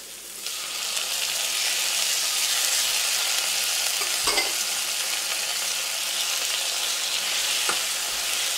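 Tomatoes sautéing with onions in a pan for beef stew, a loud, steady, close sizzle that swells after a quieter start, broken by a couple of brief utensil knocks and no talking.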